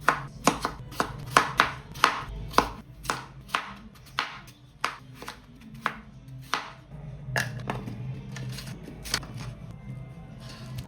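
A knife chops peeled carrots and potatoes on a cutting board, a close series of crisp, evenly spaced thuds that come quickly at first and then spread out.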